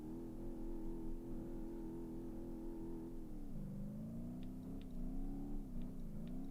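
A car engine in the BeamNG.drive video game revs steadily from inside the cabin, pitch dropping with a gear change partway through, then climbing again, loud and continuous with no talking.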